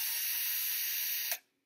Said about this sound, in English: gotta have a drill.